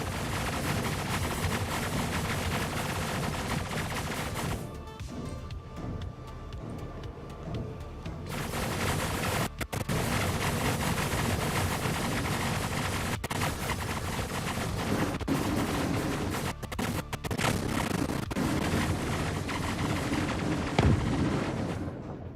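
Point defense cannons fire in the Star Citizen video game, a loud, dense, continuous barrage of rapid gunfire with booming impacts, briefly thinning before resuming at full intensity.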